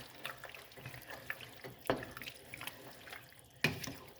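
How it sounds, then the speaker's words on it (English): Beef broth poured into a pot of chili, a soft liquid trickle and splash with a couple of sharper splashes, close and fairly quiet with no talking. "Now I'm going to add some beef broth."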